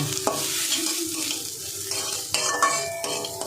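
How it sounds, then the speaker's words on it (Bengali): Washed lentils are dry-fried in a pan and stirred, with scraping and light clinks of a spoon against the pan over a soft sizzle, close and with no voices. "এবার আমি ডালটা ভেজে নেব।"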